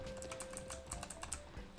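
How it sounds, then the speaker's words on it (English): A computer keyboard slapped and hammered during a racing game, a quick run of close, sharp key clacks and thumps filling the whole moment. "I literally just slapped my keyboard and it repositioned me."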